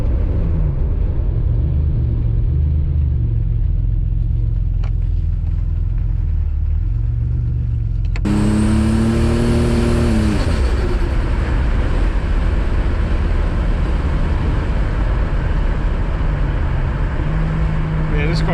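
A turbocharged Buick with a swapped alky pump runs on a drive, engine rumbling steadily before a sharp rev climbs in pitch as it accelerates hard, then settles into a loud sustained cruise.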